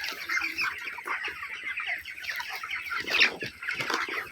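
Broiler chickens on a Bangladeshi poultry farm cluck and chatter continuously as a flock, a busy steady murmur of overlapping calls with occasional wing flaps and no talk.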